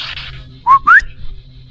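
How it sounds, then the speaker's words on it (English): A sharp two-note whistle, a quick rising swoop followed by a second rising note, loud and close, cutting through a low rumbling background with no one talking. "That was a weird whistle."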